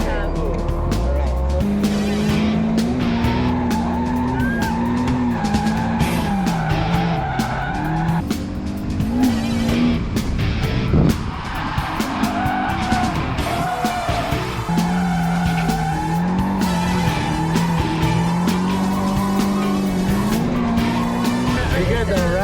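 An AE86 drifts at a car show drift event, its tires squealing almost nonstop over a revving engine for the whole stretch, while people in the car talk over the noise.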